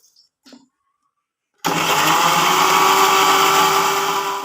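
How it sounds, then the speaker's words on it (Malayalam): A mixer grinder in a home kitchen blends thinly sliced onion, a few faint clicks giving way to a loud, steady motor whir and chopping rumble that runs on without pause. "ഇനി നമുക്കിത് മിക്സിയുടെ ജാറിലേക്ക് ഇട്ടിട്ട് നന്നായിട്ടൊന്ന് അരച്ചെടുക്കാം."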